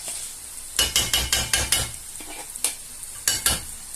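A cream sauce with turkey escalopes being stirred in a pan over high heat, bubbling and sizzling steadily while a utensil scrapes and knocks the pan in a quick run of regular strokes, then a few more.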